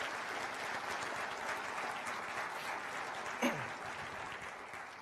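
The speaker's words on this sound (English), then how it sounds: "You deserve a round of applause." A county address audience breaks into steady applause, a dense wash of many hands clapping at moderate distance throughout, with a brief louder knock or squeak midway and no talk.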